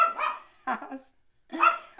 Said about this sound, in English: Uh-oh, there's a dog.